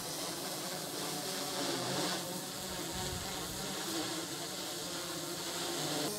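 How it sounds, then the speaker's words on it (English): A DJI Mavic 2 Pro drone hovering on Master Airscrew propellers gives a steady, buzzing whine with a broad hiss, insect-like and constant, held at close range with no talk. "All right, so here is the sound of the master air screw."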